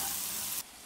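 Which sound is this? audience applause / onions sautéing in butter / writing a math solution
onions sautéing in butter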